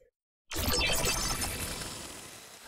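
An OTT reverb effect: after a brief silence, a dense, glassy wash of processed sound bursts in and slowly fades in a long, shimmering, reverberant tail.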